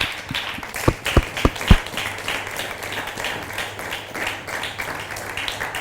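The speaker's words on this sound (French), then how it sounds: "Franchement, on acclame encore très très très fort." An audience applauds after a children's dance performance at an Easter event, with several sharp close claps standing out over a steady wash of clapping that carries on throughout.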